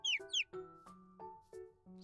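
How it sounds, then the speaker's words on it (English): A bird whistle blown outdoors in a forest at night gives a few quick high chirps up front, followed by a run of separate, steadier whistled notes at changing pitches, fairly close and clear with no talking. "He blows the bird whistle"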